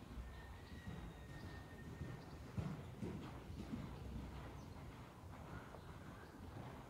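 A horse canters in an indoor riding arena, a steady muffled rhythm of hoofbeats under constant low rumbling background noise, fairly faint and distant throughout.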